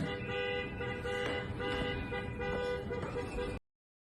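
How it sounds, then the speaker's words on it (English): A car horn blaring continuously from a car parked in the middle of a street during a protest, a steady harsh tone held for several seconds over street noise and voices before cutting off abruptly. "She sat in the driver's seat, blaring the horn for 3 minutes."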